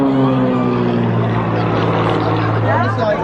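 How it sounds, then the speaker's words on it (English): A Lycoming 580-powered aerobatic plane performing at the Blackpool Air Show drones loudly and steadily with a strong, droning propeller tone that holds throughout, while a voice talks over it. "The Lycoming 580 from a family of Lycoming engines."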